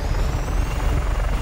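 A helicopter in the video game Just Cause 3 roars with a loud, steady rotor and engine drone, close and constant throughout with no talk over it.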